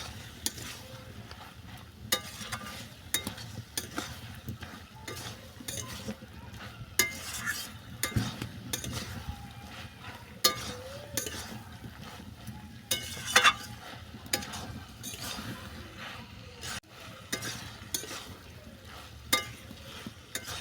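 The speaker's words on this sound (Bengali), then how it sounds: "জলটা যতক্ষণ না এই শাকের সঙ্গে শুষে নিচ্ছে ততক্ষণ আমি ভালো করে কষিয়ে নিচ্ছি" Bottle gourd greens and mixed vegetables stir-fried in a pan, a soft continuous sizzle with scraping and stirring strokes from a spatula recurring steadily throughout, close and moderately quiet with no talk.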